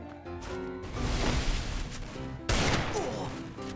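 Gunfire in the battle-royale game Free Fire, likely shotgun blasts, as dense loud bursts of shots with a sharp new volley near the end, layered over game music and effects.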